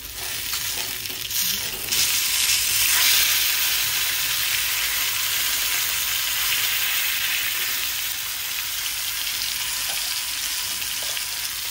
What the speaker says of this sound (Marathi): कारण मासा मला पूर्ण बाजूने भाजला गेला पाहिजे चांगला